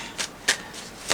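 Tarot cards being shuffled in a few brief, soft riffles separated by pauses, close and fairly quiet with no talking.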